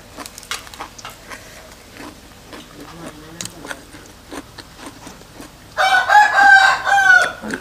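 A rooster crows loudly and close near the end, preceded by scattered clucks and short bird calls around a home kitchen where papaya salad is being made, with sharp clattering sounds throughout.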